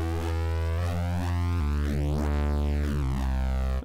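A loud, sustained bass synth run through a Kilohearts Multipass fracturator distortion plays a short melodic line, its gritty tone sweeping and shifting, with no voices.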